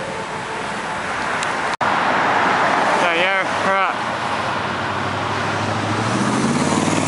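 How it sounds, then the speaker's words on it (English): A semi truck passes on a road in Rapid City, a broad steady roadway rumble that holds for several seconds, with brief speech in the middle and a sharp click early on. "Got a truck right there."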